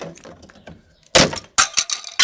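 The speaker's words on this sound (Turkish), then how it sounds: "Ben sadece cam kısmını kırarım yani." Glass from the tail light of a Tofaş Şahin car is broken in several sharp, loud cracks and crunches. A burst comes first, then a cluster of further snaps after a short pause, with quieter fiddling noises before them.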